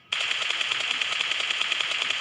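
Sustained automatic gunfire in the PUBG Mobile video game, a rapid, evenly spaced burst that starts abruptly and continues without pause, loud and crisp with no voices over it.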